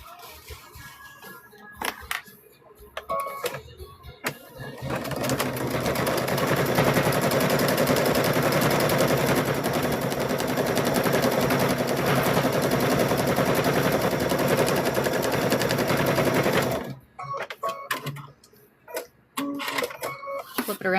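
A sewing machine stitches across the fabric binding of a mug rug, a loud steady mechanical whir running for about twelve seconds with a few short bursts of motor sound before and after.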